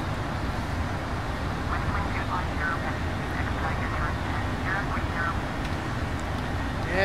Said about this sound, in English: This is the Boeing 747-400 by PMDG.